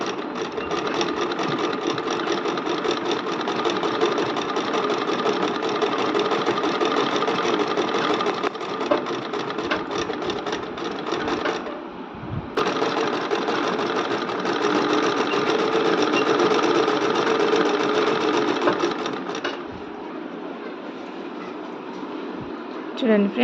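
Electric sewing machine stitching a fall onto a saree hem, a loud, close, steady whirring rattle of the needle that runs continuously, stops briefly midway, then resumes, with someone talking over it.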